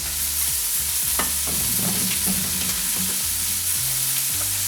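A squash-quinoa mixture with brown sugar and vegetable oil being stirred in a bowl, continuous close scraping and sloshing with repeated low thuds as the spoon works around.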